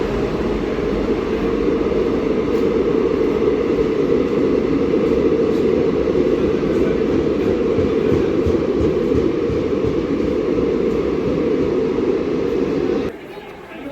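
A train pulling into a railway station: a loud, continuous low rumble and roar of wheels and carriages that holds steady for several seconds, then drops off suddenly near the end, with voices audible in the background.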